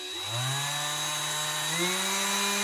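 A Stanley Fatmax cordless drill whirs steadily, its motor pitch rising as it speeds up on the variable trigger, then climbing again near the end.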